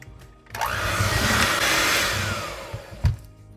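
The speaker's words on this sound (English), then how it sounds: "Now we are going to add the sugar and blend that in next." An electric hand mixer whirs steadily while blending sugar into a Christmas dip, starting abruptly and running as a continuous motor drone for a few seconds before easing off, with a brief clatter near the end.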